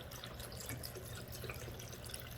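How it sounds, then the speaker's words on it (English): Vegetable broth poured over beans in a pot, a faint, steady liquid stream running continuously for a couple of seconds with no talking. "I'm going to go ahead and I'm going to add some vegetable broth to it today"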